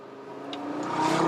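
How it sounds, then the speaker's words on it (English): A 2018 Audi RS3 five-cylinder turbocharged engine and exhaust revving up, a close, steadily rising growl with a harmonic tone that builds in loudness over about a second. "It's got that original Quattro noise, that 5-cylinder turbocharged noise"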